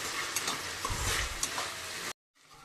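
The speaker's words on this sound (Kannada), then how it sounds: "ಚೆನ್ನಾಗಿ ಫ್ರೈ ಆಗಬೇಕದು." Eggplant for vangi bath fries with dried red chillies and garlic in a pan, a dense close sizzle with stirring scrapes, cutting off abruptly near the end before a faint return.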